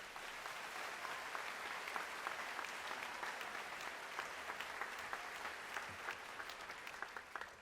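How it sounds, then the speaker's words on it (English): Steady, even applause from an audience fills the room at a middle school graduation ceremony, a dense patter of many hands clapping at a moderate distance for several seconds without pause. "Please give them a round of applause."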